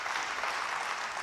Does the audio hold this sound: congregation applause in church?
yes